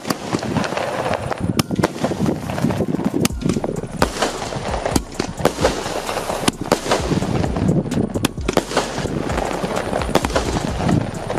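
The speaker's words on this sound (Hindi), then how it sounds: "और लो रेडी हो गया हमारा रिंग रॉकेट।" Firecrackers bang in rapid irregular bursts, loud sharp cracks and pops going off one after another outdoors, with no one talking.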